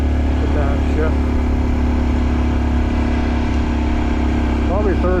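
A Honda Dax mini moto labors up a very steep hill, its engine droning steadily and loud with jerky gear shifts and brief revs, while a rider talks over it throughout.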